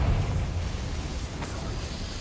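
A Confringo fire spell in Hogwarts Legacy, a single explosive blast with a heavy low rumble that fades over a couple of seconds, with a faint crackling burst near the end.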